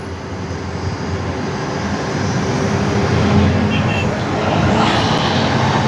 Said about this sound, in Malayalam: ഇതാ കണ്ടില്ലേ ഒരു ബൈക്ക് റൈഡർ പോയത്.